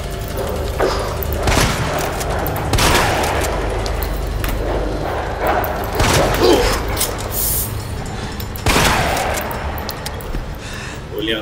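Heavy gunshot-like blasts in Resident Evil 2 Remake go off every few seconds, irregularly spaced, over a continuous low rumble of game noise.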